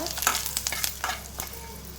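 A pinch of turmeric mixed into a frying pan, giving soft repeated scraping strokes over a low sizzle, fairly quiet and close, with no one talking.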